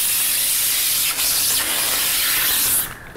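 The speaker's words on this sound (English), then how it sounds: "Remove the plastic covering." Plastic protective film peels off the panel of a new PC case in a continuous, loud, close hissing rasp lasting nearly three seconds before cutting off abruptly.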